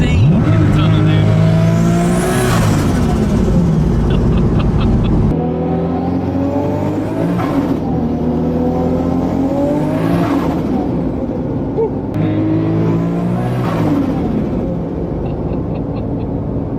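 A Toyota Supra with a 2J engine and Precision turbo revs hard in a tunnel, the loud engine rising and falling through repeated pulls with turbo whistle, while people talk underneath.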